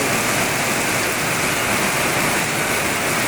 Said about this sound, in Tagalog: lakas po ng ulan dito